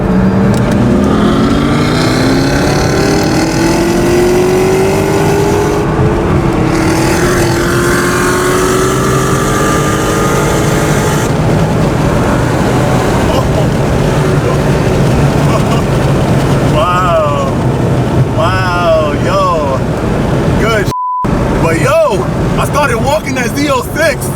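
Corvette C7 Z06 and Porsche Turbo engines roar in a sustained high-revving run, with wind buffeting the microphone and a voice speaking over the engine noise.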